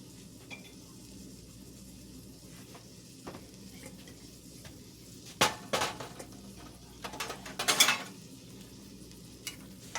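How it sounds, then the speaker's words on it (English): Chopped onion sautéing in butter in a pan on a stove, giving a soft, steady sizzle with a few clattering bursts of stirring utensil against the pan midway through. "get my onion in there and get that cooking"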